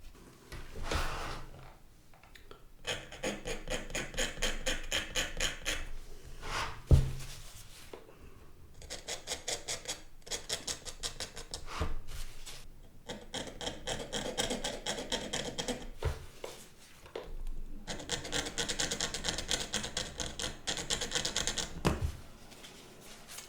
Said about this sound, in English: How do you like the scraping noise?